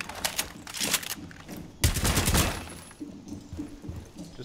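Gunfire in the Rainbow Six Siege video game, a Bartlett U team deathmatch bomb round: rapid bursts of automatic shots with a louder, denser volley midway, fairly close, then quieter scattered activity.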